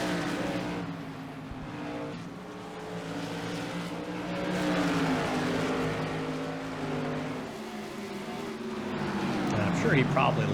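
Race cars roar around the Five Flags Speedway oval during the Extra Life 300, engines droning and rising as they pass, with commentary talk running over the sustained racing noise.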